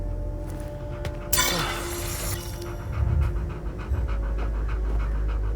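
A rescued pup in the game Hell Is Us pants steadily and close by in quick, rhythmic breaths, with a brief burst of shattering glass and clinking partway through.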